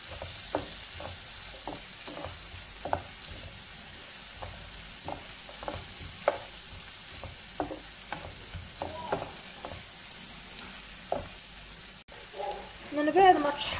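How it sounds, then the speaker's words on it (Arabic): A spoon stirs pumpkin and onion sizzling in a pan, with regular scraping strokes over a soft frying hiss; the stirring grows busier and louder in the last seconds. "غادي نخليو دابا كلشي يطيب مره ونحركو يعني المكونات ديالنا بحال هكا باش ما تحرقوش"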